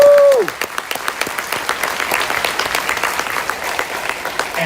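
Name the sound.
audience applause for choir students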